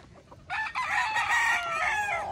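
A rooster's crow rings out loud and close for nearly two seconds, with softer clucking from chickens just before it.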